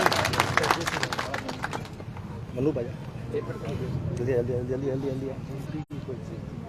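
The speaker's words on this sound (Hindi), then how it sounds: "एक बार फिर से जोरदार तालियां व अभिनंदन।" Loud applause at a Sindhi community gathering for the unveiling of a memorial chowk, clapping strongest at the start and then thinning under crowd chatter and nearby voices.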